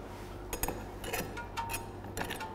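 A Copa glass, chilled for a gin and tonic, is handled with light clinks and taps against other glassware and bar tools, scattered and fairly soft over a low background hum.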